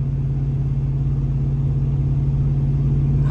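A Ram 1500 pickup truck engine idles steadily up close, a constant low rumble with a firm hum and no revving, alone without any talk.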